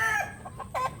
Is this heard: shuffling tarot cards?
no